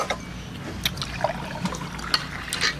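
Water poured into a glass at a meal of dinakdakan, a short liquid splash and trickle with small clinks, close and fairly quiet over faint background noise.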